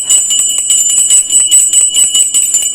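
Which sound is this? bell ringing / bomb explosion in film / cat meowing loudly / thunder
bell ringing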